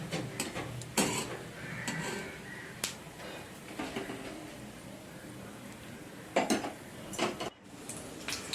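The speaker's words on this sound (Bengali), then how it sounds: "5 ফোড়ন আর শুকনো লঙ্কাটা দিয়ে একটু ভালোভাবে নেড়ে ভেজে নিলাম।" Dried red chillies and five-spice are stirred and fried in a pan, giving quiet, intermittent clinks and scrapes of a utensil against the metal, with faint background sounds between the knocks.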